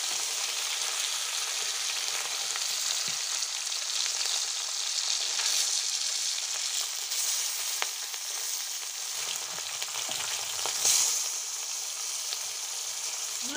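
Pieces of rui fish fry in hot oil in a pan in a village kitchen, giving a steady, close crackling sizzle that carries on evenly throughout, with occasional faint clinks as the pieces are turned.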